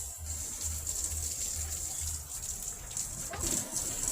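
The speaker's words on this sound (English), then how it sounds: "she's watering the compost" Water pours steadily onto a compost pile during garden watering, a soft continuous splash close by with a faint high hiss throughout and no talking.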